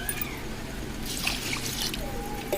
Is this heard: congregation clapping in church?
no